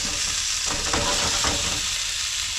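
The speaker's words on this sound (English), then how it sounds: "with the little mustard seed sizzling, I'm going to add potatoes." Potatoes sizzle and crackle steadily with mustard seeds in a hot frying pan, with a few brief stirring scrapes in the middle.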